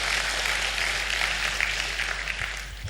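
Church congregation applauding during an Easter sermon: a broad, steady wash of many hands clapping, sustained and even, without speech on top.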